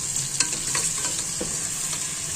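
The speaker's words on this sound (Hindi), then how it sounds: "हम इसको गोश्त को थोड़ा सा फ्राई करेंगे, क्योंकि गोश्त को ना फ्राई करना लाजमी होता है।" Beef pieces fry in hot oil in a pot for spinach beef curry, a steady close sizzle with scattered stirring scrapes and spatters, no talking.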